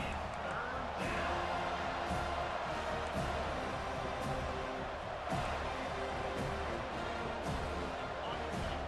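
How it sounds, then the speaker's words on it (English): Home stadium crowd at a college football game between Miami and FSU, a steady loud roar of cheering building on third down, with a commentator talking over it throughout. "Here comes this home crowd as the defense tries to get off the field on third down."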